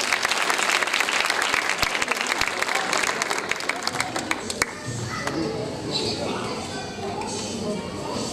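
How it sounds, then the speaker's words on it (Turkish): Audience applause for a five-year-old dance group taking the stage at a kindergarten school show, loud dense clapping from a crowd that thins slightly midway, with sharper individual claps standing out. "Hep birlikte alkışlıyoruz."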